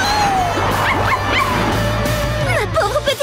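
A cartoon dog from the French version of Blaze and the Monster Machines whimpers and yips in a rapid series of high whines and short barks, loud and close, over a musical score.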